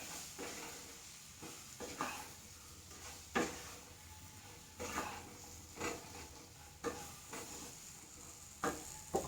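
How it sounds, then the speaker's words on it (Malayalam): Spoon stirring roasted mustard-fenugreek powder into bilimbi pickle in a pan, a series of soft scraping strokes at a steady rhythm over a faint sizzle, close and quiet with no talking. "എന്നിട്ട് ഒന്നങ്ങോട്ട് ഇളക്കി കൊടുക്കാം"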